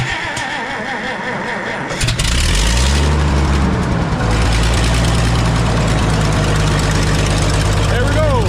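A small gasoline engine on a G1050lp unit, just repaired after a fuel leak, cranks and fires up after about two seconds, then settles into a loud, steady idle with a little throttle added. A voice speaks over it.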